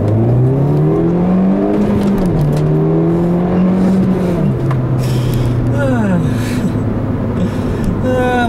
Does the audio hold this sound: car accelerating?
yes